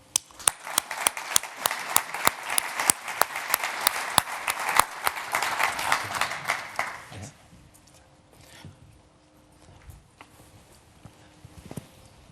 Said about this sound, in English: William White, please join me in a round of applause for him.